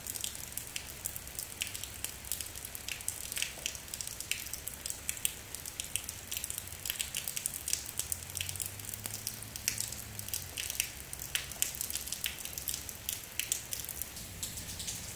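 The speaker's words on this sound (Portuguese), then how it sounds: "Chovendo bastante, viu?" Heavy rain falling in the Alagoas countryside, a dense, steady hiss of drops with scattered patters and splashes, continuous and fairly close for fifteen seconds with no voices.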